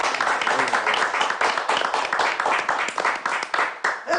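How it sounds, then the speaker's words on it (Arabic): Group applause at a circumcision celebration in a Ramadan sitcom episode, with hands clapping in an uneven, busy patter that carries on steadily and mixes with voices. "تصفيق على جميلة."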